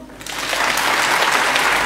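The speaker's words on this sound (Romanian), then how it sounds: "Să-i aplaudăm!" A concert audience at a Christmas carol program bursts into applause that swells quickly after a quiet start. The clapping is loud, dense and sustained, with no voices over it.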